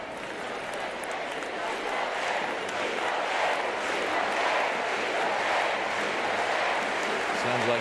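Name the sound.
home crowd cheering at the Paris 2024 Paralympic athletics stadium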